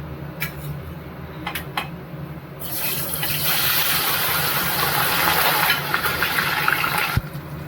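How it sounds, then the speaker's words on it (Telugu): Colocasia pieces dropped into hot oil, a few light clinks giving way to a sudden, sustained loud sizzle and bubbling hiss that fills the rest, with one sharp knock near the end. "ఆయిల్ వేడెక్కిందండి. ఇప్పుడు మనం ఇందులో చామదుంపలు వేసేసుకుందాం."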